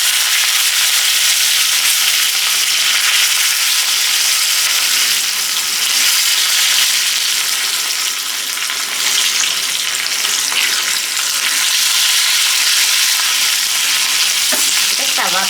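Dry red chillies and curry leaves fry in hot oil for a dal tempering, giving a loud, steady, close sizzle that hisses continuously throughout with no talking.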